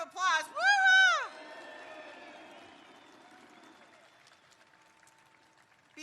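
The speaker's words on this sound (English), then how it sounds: "Let's give a round of applause." A shipyard crowd greeting a presidential visit cheers with a loud, rising whoop, followed by a distant wash of applause and crowd noise that slowly fades away.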